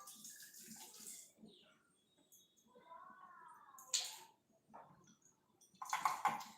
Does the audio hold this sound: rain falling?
no